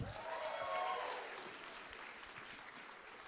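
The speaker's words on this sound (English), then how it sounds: "give a round of applause for yourselves." Scattered clapping from an audience at a dance show, moderately distant, fading gradually as the applause tapers off.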